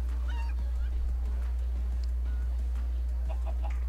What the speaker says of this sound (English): After I watch one more chicken get owned.